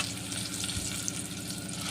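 Mashed sweet potato frying in ghee for halwa, giving a steady, dense sizzle that runs without a break, close up and moderately loud, with no voices.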